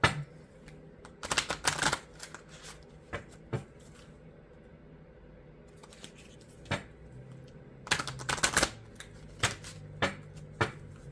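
A deck of hummingbird oracle cards is shuffled up close in quick clusters of crisp riffling flicks, separated by quieter pauses.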